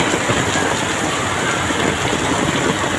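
Heavy, loud, steady rain pours down during a flood along Commonwealth as soaked students head home, a dense unbroken roar without speech.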